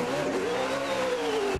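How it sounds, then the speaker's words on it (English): A NASCAR race car engine revving hard, a loud, sustained high-pitched roar that holds steady before cutting off abruptly. "He warms up the car."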